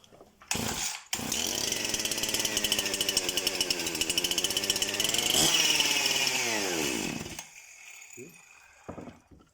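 A Husqvarna 353 chainsaw pulls to life and runs loud and steady for several seconds close by, its two-stroke buzz rising slightly before cutting out abruptly, followed by a few faint clunks.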